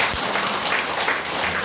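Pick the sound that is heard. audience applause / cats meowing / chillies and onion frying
audience applause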